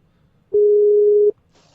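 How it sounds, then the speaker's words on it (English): Skype client call-drop tone: a single steady electronic beep lasting under a second, loud and clean against near silence, followed by a faint high hiss. "the Skype client made this like sound effect that sounded like a oh, like it died or something"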